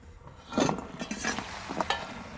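Sweets are dropped into melted sugar syrup and stirred in a pan, bringing soft scraping, clinking and sizzling bubbles at close range. The sound comes in a few short bursts with no talk.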